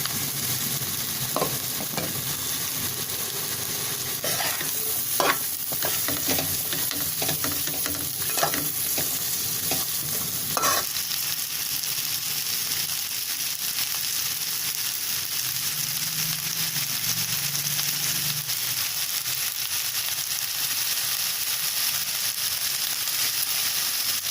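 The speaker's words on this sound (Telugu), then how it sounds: "దీనిలో కట్ చేసి పెట్టుకున్న ఆలు ముక్కలు వేసుకోవాలి." Cut potato pieces fry in a pan with a continuous bright sizzle, while a few scraping stir strokes come early and then fade, leaving the steady frying alone and close.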